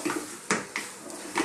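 Metal spoon clinks and scrapes against a pot while stirring a chunky fish curry with cod, in a few separate knocks over a short, quiet stretch.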